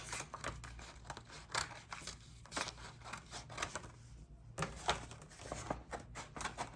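Repeated crisp snips of scissors slicing through heat transfer vinyl sheet, a quick irregular series of close, sharp cuts with a brief pause midway.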